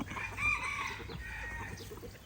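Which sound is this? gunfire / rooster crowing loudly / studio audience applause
rooster crowing loudly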